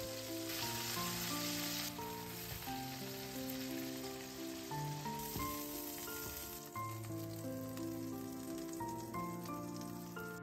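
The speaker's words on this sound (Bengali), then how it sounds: "এবার চলুন কড়াইয়ে সর্ষের তেল গরম করে এক এক করে চিংড়ি মাছগুলো লাল লাল করে ভেজে তুলে রাখি।" Prawns fry one by one in hot mustard oil in a kadai with a continuous, steady sizzle and crackle at moderate loudness, under a layer of soft background music, with no one speaking.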